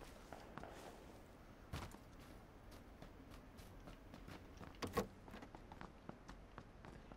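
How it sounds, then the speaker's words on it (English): Footsteps in a battle royale video game tap faintly and steadily, with a couple of louder thuds standing out from quiet background noise. "I keep on hearing your footsteps."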